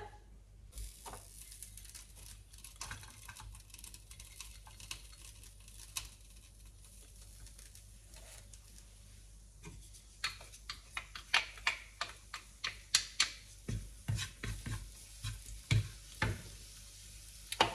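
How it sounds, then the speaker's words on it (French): Shallot sizzling and popping in basil-scented oil in a pan, faint at first and then growing into denser crackles and spatters, close by with no voices. "dans une huile, je vais mettre une échalote"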